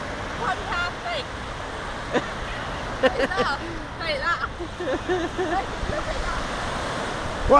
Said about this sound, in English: Wow, massive waves!